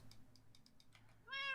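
A cat meows in the Minecraft video game: a single clear, moderately loud mew at the end, preceded by a few soft, sparse clicks in the background.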